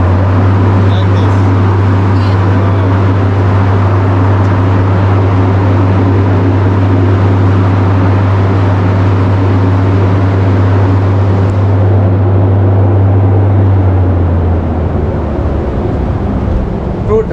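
A big drying fan blows steadily in a Sri Lankan tea factory, a loud continuous low hum and broadband rush that runs unbroken before winding down near the end.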